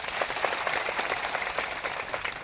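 An audience at a political rally in Chhota Udepur, Gujarat, claps steadily, with many hands making a dense patter. The applause is moderately loud and continues evenly, with no clear speech over it.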